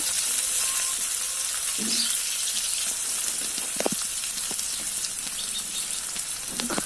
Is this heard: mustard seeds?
yes